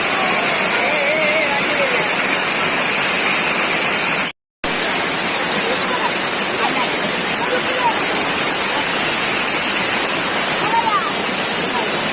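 Chamadka waterfall in the rainy season, a loud, continuous roar of falling water filling the whole clip, broken only by a very brief dropout near the middle, with faint bird calls over the rush.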